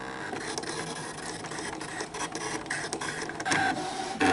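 A Brother ScanNCut SDX cutting machine runs its blade, giving a steady, faint mechanical whir with soft ticking and clicking.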